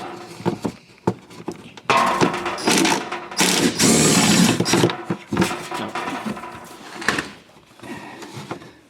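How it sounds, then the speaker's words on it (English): Socket wrench loosening the 10 mm bolts around the transmission pan of a 2012 Toyota Camry: close, irregular metallic clicks and rattling bursts, some quick and sharp, others longer and grinding. "So we'll take out all those little bolts all the way around the pan"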